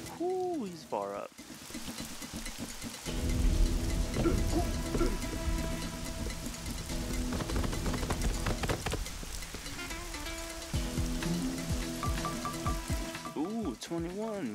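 Rain falls in the Temple of Rain level of the Guacamelee video game, a steady patter under game music and sound effects throughout.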